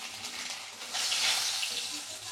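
A duck egg fries in oil with a bright, hissing sizzle that swells briefly near the middle, steady and close for a couple of seconds.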